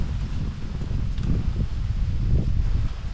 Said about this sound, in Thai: ตอนนี้ลมแรงมากเลย